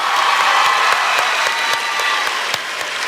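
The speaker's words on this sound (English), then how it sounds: "Clap for them, dang it!" Loud audience applause at a PAX West 2016 gaming convention panel, dense crowd clapping with some cheering, sustained for about three seconds and fading slightly.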